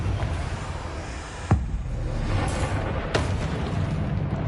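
A single sharp blast from a Confringo blasting spell, a dull boom with a short burst, followed later by a second fainter pop over a steady low rumble.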